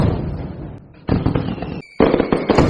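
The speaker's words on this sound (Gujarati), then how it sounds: "તો ત્રણ વાર ફેરથી ફૂટે સ્કાયશોટ" Sky shot fireworks burst outdoors in dense crackling volleys, with three bursts in quick succession separated by short gaps.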